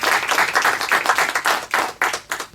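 An audience at a junior quiz show's grand finale claps loudly for a contestant, giving a dense, steady round of applause with no talking over it.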